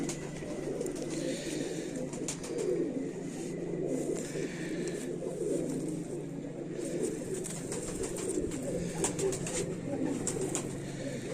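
Champion racing pigeons, including an injured hen known for outstanding long flights, cooing softly and steadily in a loft. Bird calls come through under a continuous murmur of background noise, with no talk.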